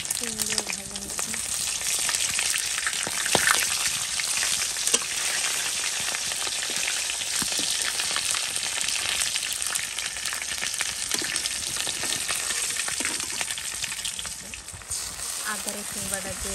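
Hot oil frying food crackles in a dense, continuous sizzle from start to finish, with a few stirring knocks and a voice talking briefly.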